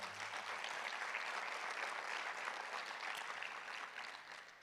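A church congregation applauds during a Spanish-language sermon, steady clapping held for several seconds at a soft, distant level before tapering off.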